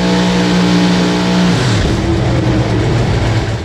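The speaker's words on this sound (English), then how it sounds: "Marcus Burt's going to roll up in the left lane out of Gray, Georgia, in their Chevrolet Corvette" A Chevrolet Corvette Pro Mod drag car from Gray, Georgia idles hard in the lanes, then its engine bellows up into a loud, rising roar. The sound is close and continuous, with no voices.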